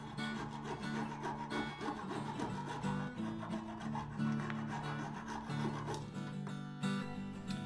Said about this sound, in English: I need to cut off the excess of the dowling sticking through.